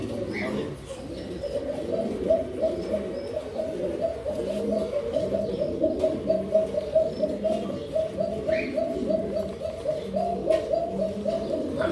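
Jhorna Satin fancy pigeons coo continuously on a pigeon farm, a soft, rolling chorus of overlapping low calls that stays steady and fairly faint throughout.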